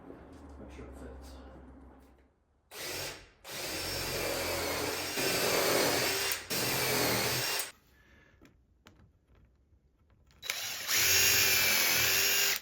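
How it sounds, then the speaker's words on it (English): A power drill countersinks a screw hole in wood for a barn door build, whirring in several loud bursts of a few seconds each separated by pauses, fairly close. "That put a countersink so the head of that screw will go in there."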